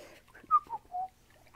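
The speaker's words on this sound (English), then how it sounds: "I should not whistle. That's probably loud in there" A person whistles a short, soft three-note phrase, falling in pitch, quiet and close.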